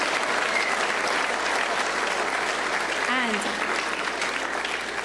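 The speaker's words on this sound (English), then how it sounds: "they're clapping for it" A room of people applauding, continuous dense clapping at even volume for about five seconds, with a faint brief voice or whistle partway through.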